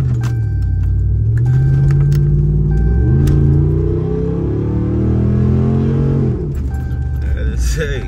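A 2017 RAM 2500 Big Horn HD pickup truck accelerates from inside the cab, its engine drone rising in pitch, dropping at a gear shift and climbing again, loud and steady while someone talks over it.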